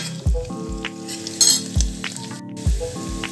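Finely chopped garlic added to browned onions sizzles and fries steadily in a pan, with a spoon scraping and stirring in regular strokes and occasional light clinks, close and alone.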